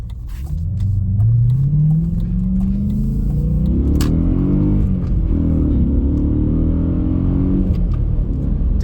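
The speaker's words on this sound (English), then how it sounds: "Definitely hear a little bit more of a rumble from the front" A deep V8 engine rumble with an aftermarket air intake swells as the Audi S4 (B6/B7) accelerates, its pitch climbing and shifting through the revs, loud and close with no talking.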